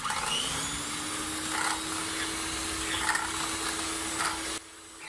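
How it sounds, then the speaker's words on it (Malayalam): An electric mixer beats whipping cream with cold milk for a pomegranate pudding, a steady, fairly loud whirring motor drone that runs for several seconds before cutting off abruptly near the end. "നന്നായിട്ടൊന്ന് ബീറ്റ് ചെയ്യാം."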